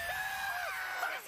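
A girl's high, strained scream from an episode of the anime Your Lie in April rings out in a crowded, noisy mix, loud and sustained for just over a second before cutting off.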